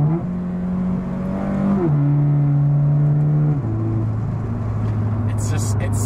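An automatic Toyota 86 with an aftermarket exhaust revs loudly and shifts up through the gears, the engine note dropping in distinct steps at each change, droning steadily up close.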